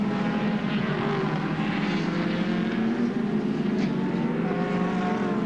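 Touring race cars circulate at Winton circuit, a continuous droning engine roar with steady harmonic tones and a slight rise and fall, fairly close and without talk.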